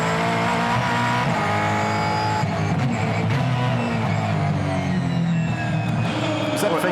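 Supercars race cars roar into turn 2 at the race start, a loud, dense wall of engine noise with some tire squeal, and a commentator's voice runs underneath.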